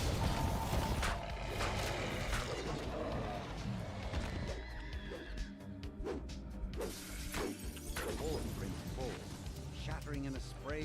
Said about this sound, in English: Shattering in a spray of ice and snow